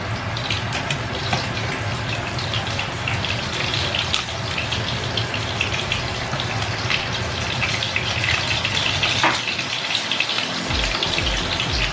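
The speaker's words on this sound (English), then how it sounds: "She's frying it, guys." Keto chicken parmesan breaded with chicharron and almond flour fries in a pan, giving a dense, continuous crackling sizzle that stays fairly loud throughout with no talk over it.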